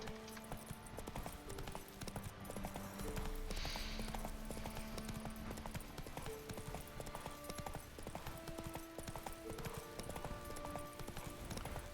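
Horse hooves clopping steadily from The Witcher, a continuous rhythmic trot under game music and ambient sound, faint and even throughout.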